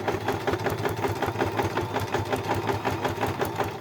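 A sewing machine runs steadily in zigzag stitch through an oven mitt, giving a fast, even mechanical whirr with a regular rhythmic pulse, close up and continuous throughout, with no talking.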